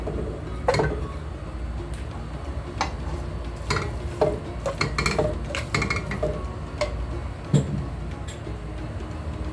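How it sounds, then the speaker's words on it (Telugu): Minced meat (keema) tipped into a pan of fried ginger-garlic paste, heard as scattered clinks of a spoon against the metal pan and stirring scrapes over a faint low sizzle. "అల్లం వెల్లుల్లి పేస్ట్ కాస్త వేగిన తర్వాత కీమా వేసేద్దామండి"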